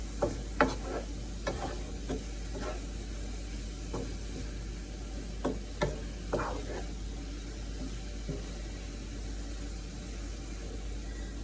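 Chopped coleslaw greens cook in butter in a pan under a faint steady sizzle, with intermittent scraping and clinking of a utensil stirring them close by.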